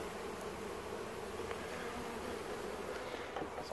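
A ball of honeybees clustered on the ground hums in a continuous close buzz, steady and moderately loud, with occasional individual bees flying past.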